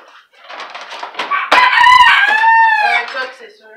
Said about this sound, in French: Un coq, c'est sûr.